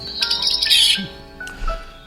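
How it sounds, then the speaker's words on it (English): Mountain chickadee calling in Colorado Rocky Mountain habitat, a few bright high chirps and whistled notes in a quick sequence, fairly close and clear over quiet background. "The mountain chickadee, Pisoli gambelli, today's Talkin Birds featured feathered friend."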